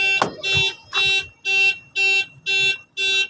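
A car alarm blares in a steady series of loud, evenly spaced electronic pulses, about seven in all, with a brief voice at the start.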